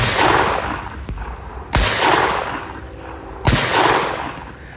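Three sharp gunshots from a Manurhin Walther PP .22LR pistol fired outdoors, spaced out at irregular intervals, each a loud crack with a short echoing tail.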